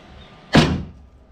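A Jeep YJ door swings shut once with a single close, sharp thud, followed by a brief decay into quiet.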